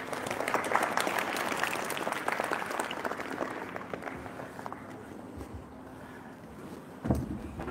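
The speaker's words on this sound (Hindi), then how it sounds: "जोरदार तालियों से" Applause from students and guests at a satsang held at Perfect School, Akodara, Himatnagar, loud and crowded at first, then thinning and fading into quiet before a speaker's voice begins at the end.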